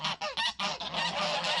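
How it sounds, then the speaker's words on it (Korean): Several geese honk loudly and repeatedly at close range, harsh nasal calls in quick bursts with brief gaps between them. "거위들은 화가 나는지 계속해서 소리를 지른다."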